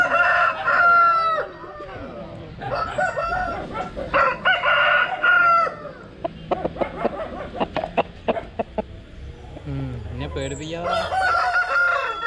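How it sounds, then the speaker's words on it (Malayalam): Fighting cocks kept at a farm in Tamil Nadu crow loudly again and again, with clucking and scattered cackles in between. The birds sound close, and low voices are heard faintly in the background. "ഇത് മൊത്തം ഇതേപോലെ എന്താ പറയാ ഒരുപാട് കൊത്തുകോഴികൾ ഉണ്ട് ഇവിടെ"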